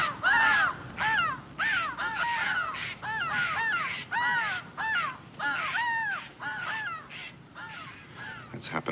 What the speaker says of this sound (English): The jays and the crows squawk at us when we pass.